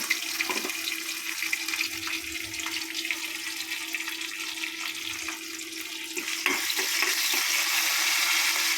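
Mustard seeds, urad dal, chili and curry leaves crackle and sizzle in a pan, a steady hissing fry that swells louder toward the end, with scattered pops and no talk.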